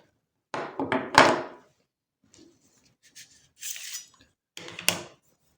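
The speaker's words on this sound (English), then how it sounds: "So this is our old knife, just an ordinary one you buy in the supermarket. It does go through." An ordinary supermarket kitchen knife cuts through food on a board, giving a few close thunks and scraping strokes in separate bursts with short pauses between them.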